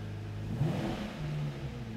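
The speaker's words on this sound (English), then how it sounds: "See it there revving up." A Lamborghini Reventon engine revs up and holds a steady mid-pitched drone, rising briefly before settling, close by with no voices.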